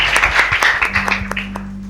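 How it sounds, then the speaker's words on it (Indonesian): A church congregation at a Sunday worship service in Batam applauds in a brief burst of dense clapping that tapers off after about a second, with a low steady tone underneath. "Berikan tepuk tangan terbaik untuk Tuhan kita yang luar biasa"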